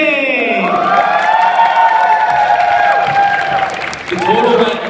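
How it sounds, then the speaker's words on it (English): An audience at a charity singing event's ending ceremony claps and cheers for the winners, with loud, sustained applause and whoops mixed with shouting voices throughout. "Let's give them a big round of applause."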